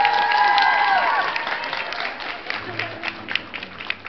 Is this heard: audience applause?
yes